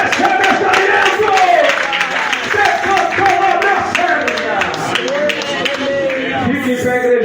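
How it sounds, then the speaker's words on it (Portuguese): Church congregation claps in praise during an evening service, rhythmic hand claps and crowd voices mixed under a preacher's loud amplified speech. "Louve a Deus com palmas desta noite"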